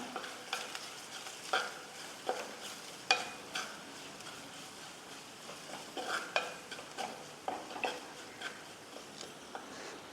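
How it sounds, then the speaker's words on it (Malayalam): Ground ginger stirred and fried in a pan for Kerala-style puli inji: repeated scraping stirs over a soft, steady sizzle, close and fairly quiet, with no voices. "ഇനി നമുക്ക് നമ്മൾ പൊടിച്ചു വെച്ച ഇഞ്ചി ചേർക്കാം. ഇളക്കി കൊടുക്കാം."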